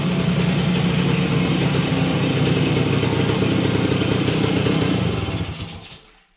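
A vintage Bridgestone TMX 100 motorcycle engine runs at a loud, steady idle on its first start, leaking fuel from a faulty petcock, with a rattling, buzzy note that fades away near the end.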